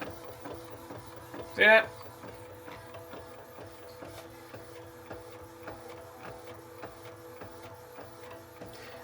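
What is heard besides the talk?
Epson 8550 DTF printer printing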